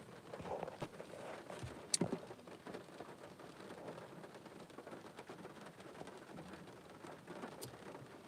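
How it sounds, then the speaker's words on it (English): Steady rain pours down outside, a continuous hiss with a few louder drips and knocks. "it's raining really hard, so hopefully you guys can hear me"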